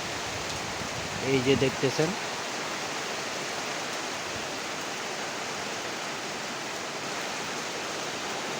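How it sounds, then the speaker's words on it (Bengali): Light drizzle in Niamatpur, Naogaon, heard through a gap in a window as a steady, even hiss of rain, with a short burst of someone talking near the start. "এই যে বৃষ্টির শব্দ, রিমঝিম বৃষ্টি পড়ছে।"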